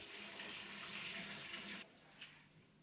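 Water pours into an aquarium over a bed of garden soil, a soft rushing splash that runs steadily, then stops abruptly, leaving a few faint drips afterward.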